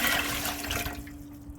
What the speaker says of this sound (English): You need to pop 3 quart jars of water into the canner to get it going